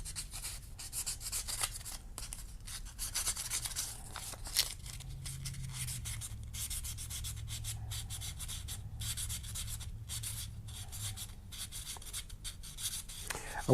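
A handmade ring sanded with 80 grit abrasive, giving a steady, quiet scratchy rubbing that runs continuously in close, even strokes.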